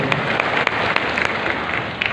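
A church congregation applauds in a sustained burst of dense, lively clapping heard close, with no talking over it.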